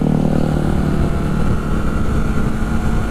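A Honda CBR 250RR motorcycle engine drones loudly and steadily as it is ridden, with a constant low rumble and no speech.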